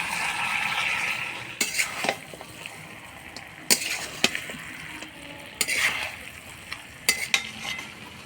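Muri ghonto, a Bengali fish-head and rice dish with ghee, sugar and garam masala, stirred in a pan: scraping spoon strokes and metallic clinks in bursts over a soft sizzle, with quiet pauses between.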